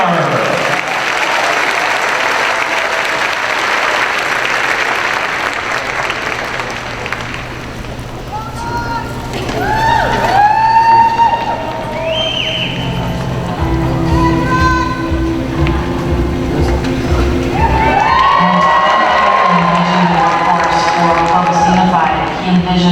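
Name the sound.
audience applause and cheering for educators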